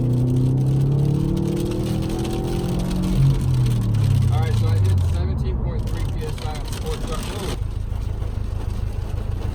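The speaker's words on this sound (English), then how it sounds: "We're gonna downshift into third gear. We're gonna try to do a pull and see what happens. At wide open throttle." A Subaru STI with a Cobb Accessport Stage 1 tune makes a wide-open-throttle pull in third gear, its engine drone loud and steady inside the cabin as the pitch shifts through the run.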